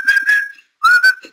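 A person whistles two short, clear phrases with a brief pause between them, loud and close with no other sound.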